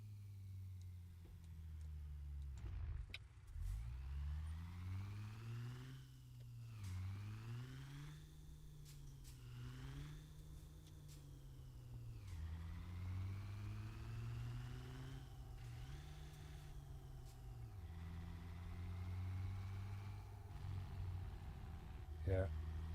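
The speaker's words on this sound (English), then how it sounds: "850 Cummins, sounds nice." An 850 Cummins truck engine runs with a deep idle, then revs up and down repeatedly in several rising and falling sweeps, close by, with a voice talking over it.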